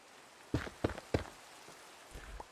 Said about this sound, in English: The salt makes a weird noise.